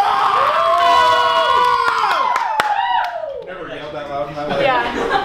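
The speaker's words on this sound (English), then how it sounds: "whoever gets the loudest cheer for your picture" A crowd of kids and adults cheers and whoops loudly in a holiday Christmas Cup cheer-off, a sustained roar of shouting voices and some clapping that dips briefly before swelling again.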